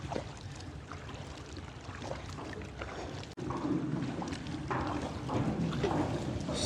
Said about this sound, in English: We're just gonna paddle underneath this walkway and then go around the backside.